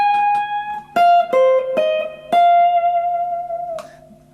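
A short jazz-fusion electric guitar phrase of sustained, bending notes with a bluesy feel, each note struck clearly and ringing out alone.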